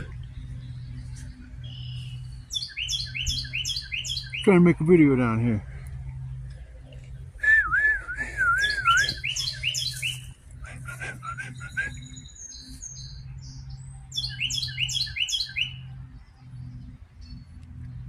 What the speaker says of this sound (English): Hey bird, you got a big mouth.